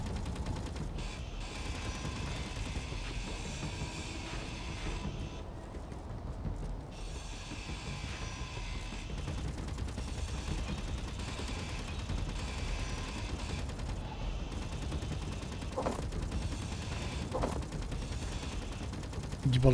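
Distant, muffled gunfire in Space Engineers keeps up through a steady mechanical hum, with scattered rattling bursts and a few sharper reports late on, under occasional talk.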